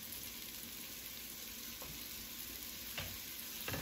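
Coconut oil sizzling in a pot of frying vegetables for a ginger sweet potato soup, a steady close crackling hiss with a few soft clinks of stirring near the end.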